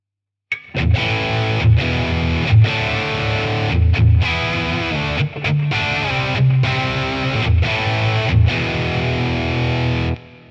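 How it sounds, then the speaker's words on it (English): Electric guitar played through the internal distortion of a Boss Katana amp, a loud, saturated, somewhat scooped tone in chugging chords and short bursts separated by brief clean gaps, with no other sound. "This distortion is almost a bit scooped."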